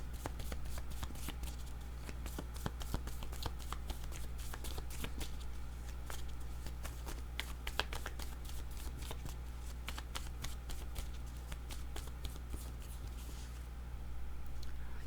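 Tarot cards shuffled by hand in a steady run of crisp, rapid riffles and soft slaps, close and continuous with no talking, over a low constant hum.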